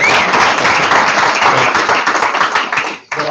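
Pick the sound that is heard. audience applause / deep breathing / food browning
audience applause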